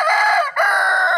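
A rooster crows loudly and close by in a single sustained call with a brief break in the middle, heard alone at a backyard chicken coop.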